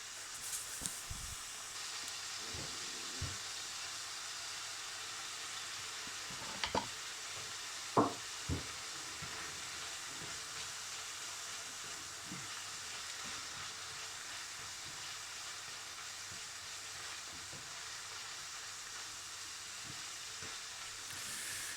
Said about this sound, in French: Et voilà, je touille, je touille.